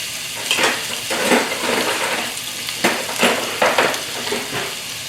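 Pork hits a hot pan for a stir-fry with giant yellow bean sprouts, sizzling loudly throughout with bursts of frying as the meat is tossed and stirred, no voices over it.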